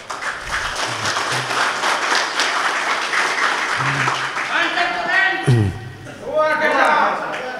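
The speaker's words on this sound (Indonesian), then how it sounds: "Boleh tepuk tangan untuk Gus Ubed." Sustained applause from an audience at an Ansor Banser basic training event in Turen, steady clapping throughout with voices and cheering rising over it toward the end.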